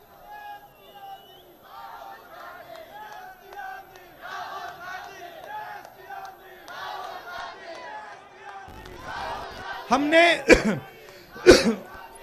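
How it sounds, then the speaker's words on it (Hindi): A rally crowd during a political march through Madhya Pradesh, with someone speaking at length over faint crowd murmur before loud bursts of cheering and shouting break out near the end. "अब भैया, अब ताली बजाने का टाइम है"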